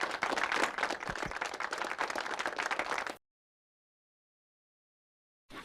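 Dense, steady clapping from a group rings out close and fairly loud for about three seconds, then cuts off abruptly into silence.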